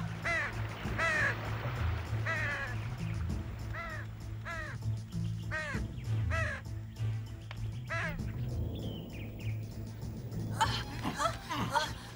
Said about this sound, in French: Mais où s'est-il caché, ce corbeau?